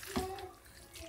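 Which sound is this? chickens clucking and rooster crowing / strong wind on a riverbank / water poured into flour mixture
water poured into flour mixture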